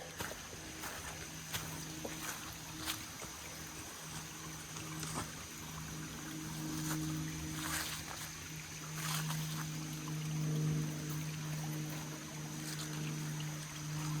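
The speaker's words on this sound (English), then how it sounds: "You can hear the little waterfall they call Le Petit Niagara." A small waterfall and creek flow through Red River Gorge, heard as a faint, steady distant rush of water over a low constant hum, with no talking.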